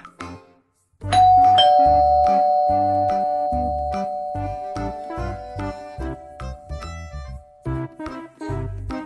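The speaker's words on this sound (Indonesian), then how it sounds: "bunyi bel rumah." A doorbell chimes with a bright ding-dong, its tone ringing out and slowly decaying, followed by softer repeated chimes.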